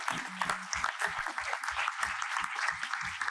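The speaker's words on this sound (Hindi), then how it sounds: "इन सब के लिए एक जोरदार सी तालियां हो जाए" An audience at a college convocation applauding steadily, a continuous patter of clapping with a voice faintly underneath.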